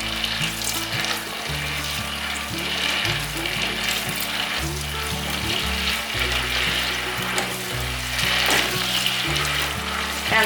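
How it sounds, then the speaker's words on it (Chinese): Sauce simmers in a pan as potato starch slurry is poured in and stirred, producing a continuous close bubbling sizzle with liquid pouring and spoon scraping throughout, no voices. "一面倒入太白粉水， 一面搅拌。"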